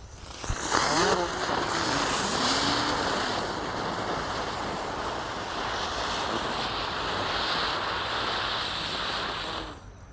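A three-colour gangsing super spinning ground firework burning, a steady loud fizzing hiss that starts abruptly and runs for about nine seconds before cutting out, with brief whistling near the start.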